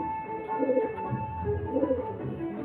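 Soft, low pigeon cooing repeats in two rounded bursts over a steady hum of background noise, fairly close.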